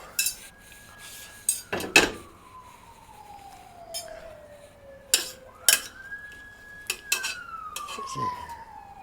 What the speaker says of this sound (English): Now I'm going to use a spoon